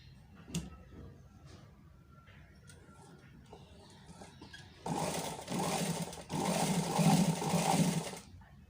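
A sewing machine stitching the fabric panels of an A-line angrakha frock starts after a quiet stretch of handling noise, running loud and steady in two near bursts with a short pause between.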